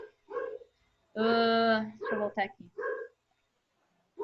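Dogs from the surrounding neighbourhood bark and yip close by, a few sharp bursts interleaved with someone speaking briefly, the barking harmonic and loud against an otherwise quiet room.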